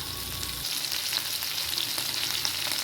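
Surmai fish fry in a pan with a dense, steady, close sizzle full of fine crackling and light spattering throughout.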